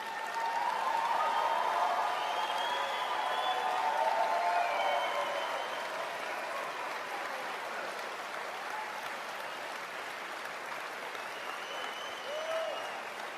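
Sustained audience applause, a broad steady clapping wash lasting over ten seconds, moderately loud and even, with faint overlapping voices or tones above it.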